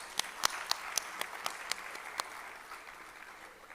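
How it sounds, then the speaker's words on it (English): An audience at a formal gathering applauds, a crisp burst of many hands clapping with sharp peaks early on that thins and fades out within a few seconds. "Can we have a huge round of applause once again?"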